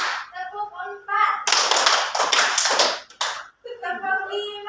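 Students in a classroom clapping game clap in short bursts of several quick, sharp hand claps between spoken counting by a teacher's voice.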